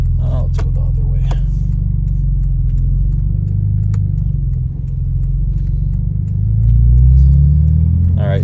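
A 2017 Porsche 911 Turbo S drives along with its engine running as a steady low rumble that swells near the end, with faint ticking and clicking in the cabin.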